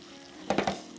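Gyoza filling of pork, vegetables, soy sauce and mirin is stirred in a bowl, giving a few brief wet squelching and scraping bursts in quick succession, close and fairly faint.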